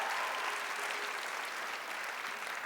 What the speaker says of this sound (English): let's give Michelle a little applause here.